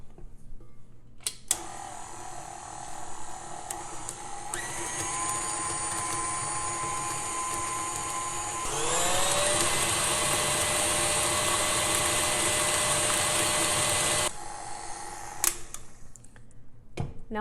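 An electric mixer whirs through cookie dough with vanilla and egg added, a steady motor hum that steps up to a higher, louder speed midway before cutting off, with small clicks around the start and end.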